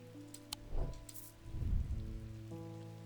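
Rain patters in the video game Strange Antiquities, a soft wash of drops with a couple of louder splashy bursts, set under a calm sustained musical drone and no talking.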